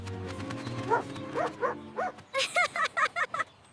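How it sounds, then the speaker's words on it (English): A cartoon dog barks in an animated children's game, first with a few spaced woofs and then a quick, evenly paced run of about seven barks, clear and close. "I am playing with the dog. Woof!"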